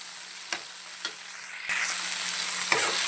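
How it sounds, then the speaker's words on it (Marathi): Onion sautéing in a pan for a cauliflower and pea masala rice, stirred with a few scraping clacks of a spoon while a steady sizzle hisses underneath and grows louder after the halfway point. "साधारण एक मिनिट आपण परतून घेऊया याला बघा आपला कांदा बऱ्यापैकी भाजला आहे"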